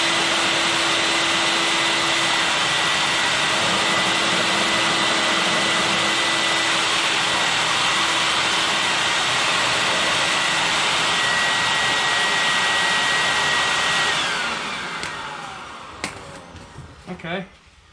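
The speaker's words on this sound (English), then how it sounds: "try to suck as much shavings you can out of the head while it's still in that cavity" Shop vacuum sucking metal shavings from the cavity of an LS engine cylinder head, its steady loud whine running close and continuous for about fourteen seconds before winding down, followed by small clinks.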